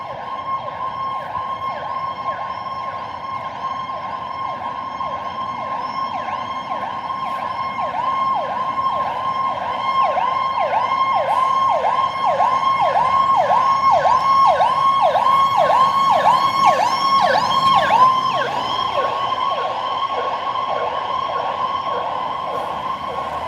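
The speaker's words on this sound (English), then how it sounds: "Hey, they have sirens in DC too." An emergency vehicle siren wails in downtown Washington DC, a rapid repeating yelp that holds steady and slowly grows louder and closer before easing off, with street ambience underneath.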